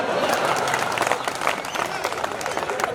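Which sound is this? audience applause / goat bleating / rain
audience applause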